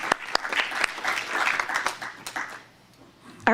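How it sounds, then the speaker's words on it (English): Applause from a small audience at a town council meeting, several hands clapping close by in a short uneven burst with a few sharp individual claps, tapering off toward the end. "Let's do a round of applause for Extra Mile Day,"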